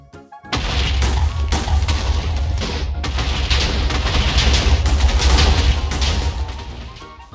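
TNT lit on fire in a Minecraft-style video game goes off in a sudden loud boom, followed by several seconds of rumbling, crashing blasts that fade out at the end.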